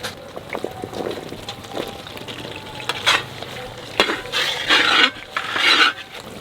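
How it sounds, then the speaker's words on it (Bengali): Carrots and mixed vegetables stirred and frying in a light spice masala for a winter vegetable dum biryani, with a steady close sizzle, scraping stirs and clinks of a spoon against the pan, the sizzle swelling louder toward the end. "সবজিগুলো মশলাতে দিয়ে একটু ঘাটিয়ে নেবো, মানে খুব বেশি ভাজবো না, একটু হালকা মশলার সাথে ভাজবো"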